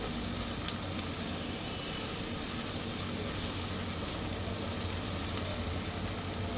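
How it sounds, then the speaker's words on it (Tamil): Ingredients for a white chicken curry sauté in a pan with a steady, dense sizzling hiss that runs unbroken and fairly loud throughout. "ஒரு 2 நிமிஷம் வதங்கட்டும்."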